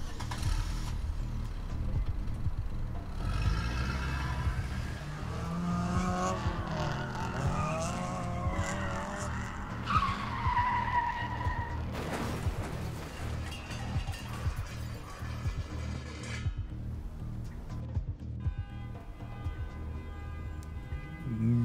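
Engines roar and tires screech repeatedly in The Bookwalker: Thief of Tales as a car speeds after another and crashes into it, with sustained skidding squeals, a sharp impact midway, and game music underneath.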